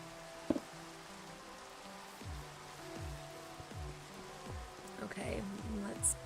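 Steady soft patter of Minecraft rain falling while building a castle, a continuous hiss with faint game tones and clicks layered over it, no voices.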